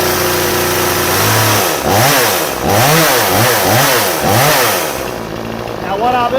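A Proyama 62cc gas chainsaw runs loud and close, its engine rising and falling in a rhythmic series of revs before settling toward idle.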